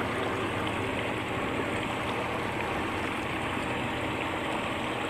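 A boat's outboard motor running on a lake, a continuous dense close rumble with washing water noise and no clear pauses or voices.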